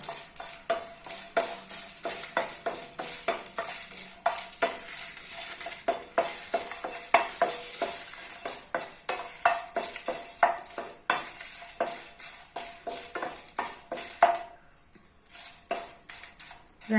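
Dry red chillies roast in a hot pan at home, about five to eight of them, giving a steady close sizzle with constant rapid scraping and stirring clatter throughout, briefly easing near the end.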